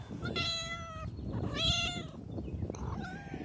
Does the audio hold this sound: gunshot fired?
no